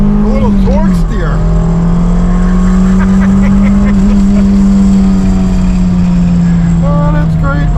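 A 1987 Shelby Charger GLHS accelerates hard with a loud, sustained engine roar heard from inside the cabin. Brief voices come in at the start and end.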